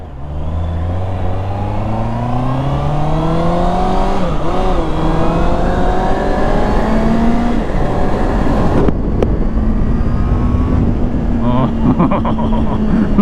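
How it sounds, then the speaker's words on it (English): Honda CBR650R inline four-cylinder motorcycle engine revving hard through rising gears, a loud continuous climbing whine with shifts and a brief dip around mid-ride, heard up close over wind with a rider talking. "It's got that very distinct inline 4-cylinder sound."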